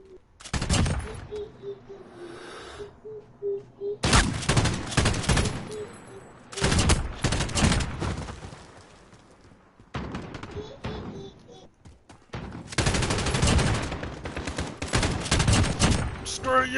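Bursts of automatic gunfire and rapid shots in the Call of Duty: Modern Warfare video game, played on PS4, come in several loud clusters separated by short quieter gaps with faint background tones.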